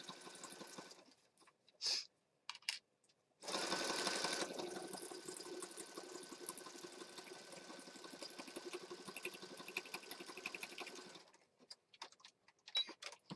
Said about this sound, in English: Going around the page, one stitch at a time.